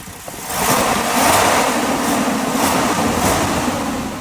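A Bongo K2700 truck engine converted to run on propane revs up and holds a loud, rough roar for several seconds before easing slightly.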